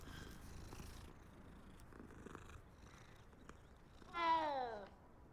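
A cat in the video game Hogwarts Legacy purrs in a faint, steady low rumble, then lets out one short, clearer meow near the end.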